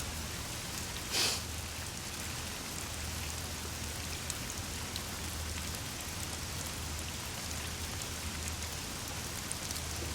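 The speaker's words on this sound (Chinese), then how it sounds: "听着雨声睡挺舒服的" Steady rain falls outside a window at night, a soft continuous patter and hiss filling the whole stretch, with one brief louder splash or rustle near the start and no voices.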